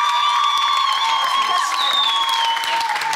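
An audience claps and cheers loudly and continuously, with whoops and a sustained tone running through the crowd noise, and voices are heard in the clip as well.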